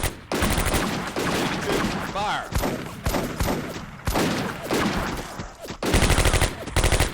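Machine gun bursts and rifle fire from the Combat Mission: Afrika Korps video game, in a fight to clear out a farm against German positions, come as loud, repeated rattling volleys with short pauses between them.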